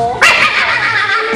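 A small dog yips and barks in a shadow theatre play, one sharp high bark followed by a whiny, drawn-out yelp, close and loud against a quiet background.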